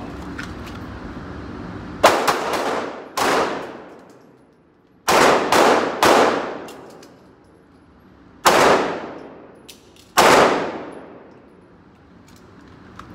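Pistol shots in a shooting drill, sharp loud cracks in small clusters, including a double shot and single shots spaced a second or more apart, each followed by a short ringing decay over low background hum.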